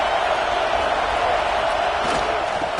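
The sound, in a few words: loud football stadium crowd noise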